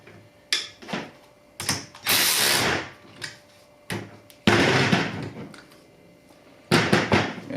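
A ratchet tightens a lock nut over a washer while assembling a VEVOR adjustable rolling mechanic shop stool, giving several close, loud bursts of rapid clicking separated by short pauses.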